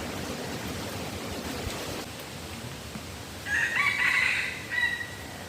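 A wild junglefowl rooster crows once, somewhat distant, over a constant rushing outdoor background.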